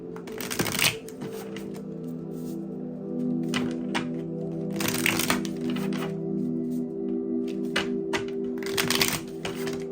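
Tarot deck being shuffled up close, with rapid riffling flutters and crisp card slaps in repeated bursts over a steady low background hum, no talking.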